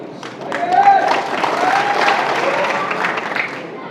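A crowd claps at a political gathering in Malegaon honoring an AIMIM legislator and a Congress MP. The applause is dense and loud, swelling near the start and holding steady, with voices mixed through it.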